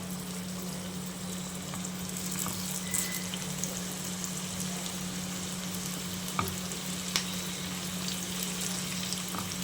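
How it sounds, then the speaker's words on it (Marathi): Potato tikki made from raw potato shallow frying in oil in a pan: a continuous, fairly quiet crackling sizzle with a low steady hum beneath and a few small pops, no talk. "पॅनमध्ये मी तेल घातलेलं आहे आणि त्यावर हे टाकून घेऊया"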